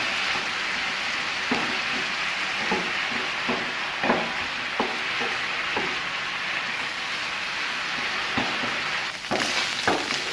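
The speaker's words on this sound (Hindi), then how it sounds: "इसको अच्छे से फ्राई होने में तकरीबन 4 से 5 मिनट लगेंगे।" Chicken pieces for a fajita sandwich sizzle and crackle steadily in a hot pan, with intermittent clacks and scrapes of stirring, close and continuous.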